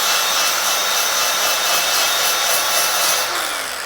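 A Fuyaon brushless angle grinder smoothing the edge of a piece of wood, giving a loud, continuous high whine and rasp close by that eases slightly at the end.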